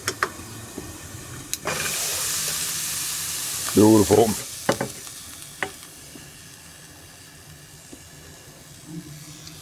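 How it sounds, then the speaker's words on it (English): Rice and broccoli steam and sizzle in a pan, a broad hiss rising after a couple of seconds and holding steady, with a burst of louder clatter and stirring midway and a brief spoken word. "we're gonna throw in some rice and some broccoli, let those steam up and cook"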